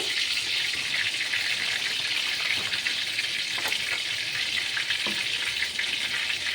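Bay leaves crackling in hot oil during a Bengali home-cooking tempering, a steady close sizzle with a few small pops and no talk.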